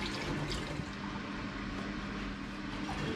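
Apple juice poured from a carton into a glass demijohn, a steady continuous liquid gush and splash with no pauses, fairly faint and close.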